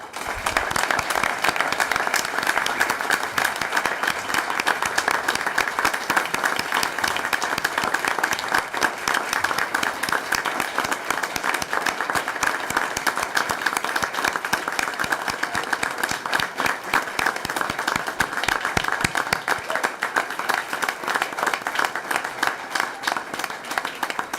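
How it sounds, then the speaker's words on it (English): Sustained applause from a large crowd for students at a board of education meeting, steady and loud for the whole stretch with no pauses, only faint voices underneath. "Let's give these students a big round of applause."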